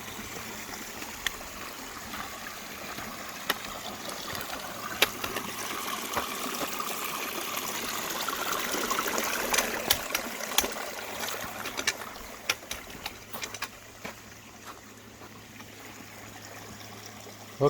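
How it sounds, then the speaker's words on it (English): Creek near milepost 104.5 on a hiking trail near Eagle Rock, running with plenty of water: a steady broadband rush and trickle from nearby, swelling slightly midway, with scattered splashes and no talking. "Beautiful creek here."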